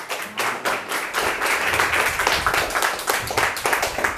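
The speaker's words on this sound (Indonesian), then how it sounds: "Mana ada yang tepuk tangan?" A church congregation claps during a sermon, with individual hand claps starting sparse and building into ragged, uneven applause from a modest group in a roomy space.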